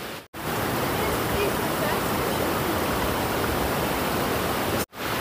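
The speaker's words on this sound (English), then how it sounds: "Waterfalls everywhere." Steady, dense roar of Croatian waterfalls pouring into clear blue pools, a constant full-bodied rushing wash heard close and uninterrupted.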